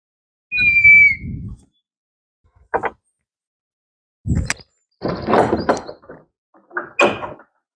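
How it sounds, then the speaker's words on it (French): Garage doors are opened in bursts: a squeal, then clunks, rattles and scraping as the doors are pulled open, with short pauses between the moves and nobody talking, recorded close. "Donc, du coup, je t'ouvre les portes."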